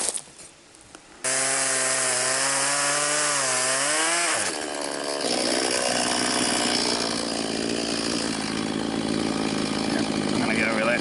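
A chainsaw idles briefly, then revs up and bites into wood for a rustic outdoor table, a loud, close, sustained buzzing whine as the engine pitch rises and settles under load through the cut.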